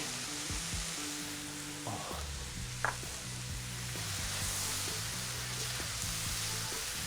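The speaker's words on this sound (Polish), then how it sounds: "Ależ pięknie się smaży wszystko." Chicken fillet and vegetables sizzle steadily in a hot pan, a constant crackling hiss with a few faint clinks and a low hum underneath.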